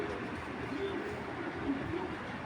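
A breeder male pigeon coos softly at close range, low murmuring calls set against a steady background hiss.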